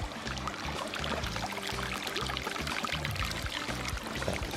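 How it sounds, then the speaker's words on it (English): Water pours steadily over a small waterfall into a large recreation pond in Alma, Wisconsin, a close continuous rushing splash, with a low rhythmic pumping hum underneath. "Nice little waterfall."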